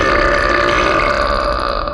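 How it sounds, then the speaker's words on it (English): A loud, long belch rumbles through an indoor kitchen, close and sustained for about two seconds before tailing off, with no other sound over it. "emitting a large belch that not only sounded loud in the confines of the kitchen, but also seemed to reverberate around the entire house"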